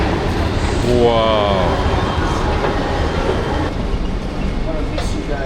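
Cheap train ride in Morocco, a steady loud rumble of the carriage rolling along the rails with a squealing tone early on, while a voice exclaims over it.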